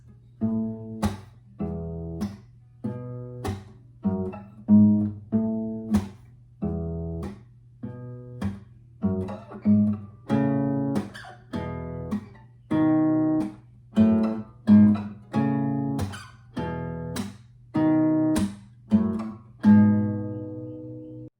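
A plucked guitar melody of single notes, evenly spaced and ringing, played steadily over a low sustained drone with no voices.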